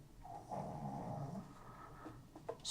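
A dog growls low and rumbling, close and fairly quiet, then lets out a few short huffs near the end.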